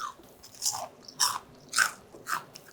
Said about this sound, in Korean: 옷이 너무 잘 입혀져서 너무 바삭바삭하니 너무 맛있어요